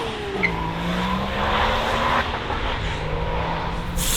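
A BMW E30 car's engine revs hard with a rising and falling pitch while the tires squeal, the noise staying loud and close throughout.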